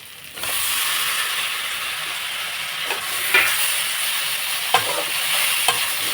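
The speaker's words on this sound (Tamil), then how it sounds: "தக்காளி நல்லா வதக்கிக்கணும்" Onions and tomatoes sautéing in a pan with chilli powder, a steady close sizzle with occasional soft stirring scrapes and no talking.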